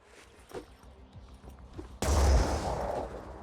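A grenade detonates in the tactical game Phoenix Point, a sudden loud blast with a deep rumbling tail cutting in after quieter scattered shots and ambient game sound.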